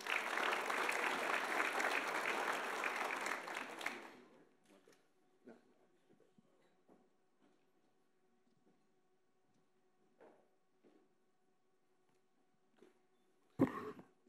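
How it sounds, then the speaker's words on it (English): A round of applause from a crowd, steady clapping for about four seconds before fading into quiet room noise with a few faint sounds and a brief thump near the end. "Let's give Pete a little round of applause here."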